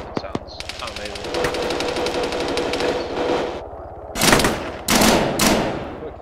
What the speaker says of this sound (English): I'm loving these new HPC weapon sounds